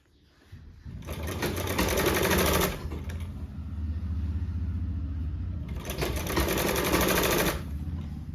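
A sewing machine stitches a joint on a sleeve patch in two quick, loud runs of rapid needle clatter, separated by a pause filled with a softer motor hum.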